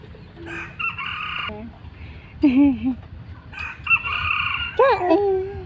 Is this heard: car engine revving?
no